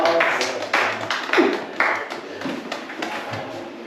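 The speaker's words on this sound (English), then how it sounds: "give him a round of applause" Audience applause following a stage magic card trick in a variety show, a broad crackle of many hands clapping steadily for about four seconds at moderate loudness with a few sharper bursts.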